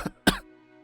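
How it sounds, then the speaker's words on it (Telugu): A man gives two short coughs in quick succession, close and fairly loud, the second stronger than the first, followed by quiet. "దగ్గుతూ,"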